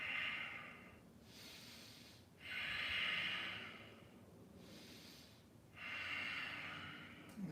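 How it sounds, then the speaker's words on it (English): Slow breathing during a yoga forward fold, three long, soft, airy breaths with quiet pauses between them, close and steady with no talking. "Take a couple of slow breaths."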